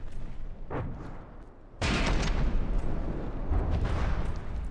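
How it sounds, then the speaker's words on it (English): Missiles strike targets in a naval combat video game battle pitting CRAM against CIWS, with mortars also firing. Muffled rumbling gives way to a sudden heavy blast that swells into sustained, roaring explosion noise. "Either way though, the missiles can still hit. And hit they do."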